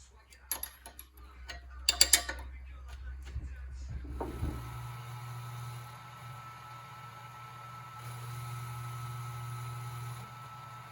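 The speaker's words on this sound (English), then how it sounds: "we're gonna machine this to fit perfectly here, and also we're gonna have to make the hole a little bit bigger for the valve guide" A 1975 Triumph TR6 cylinder head is machined to enlarge the hole for a valve guide. A few sharp mechanical clicks give way to a steady, sustained machine whir with a low hum that runs to the end.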